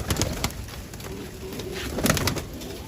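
Domestic flying pigeons at feeding give low, soft coos over a rustling background, with a few louder bursts near the start and end.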